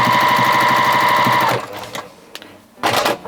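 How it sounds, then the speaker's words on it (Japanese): A sewing machine runs fast and steady, stitching a folded fabric strap, then stops abruptly; a few soft handling clicks and a brief burst of fabric rustle follow. "でこの状態でミシンかけてでこう L の字に曲がって端っこまでかけると紐ができる"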